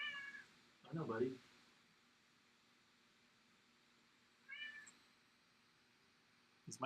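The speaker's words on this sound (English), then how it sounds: "It's my cat, Riley." A house cat gives a few distinct meows, one around the start and another a few seconds later, close by and moderately loud against a quiet room with a faint steady hum.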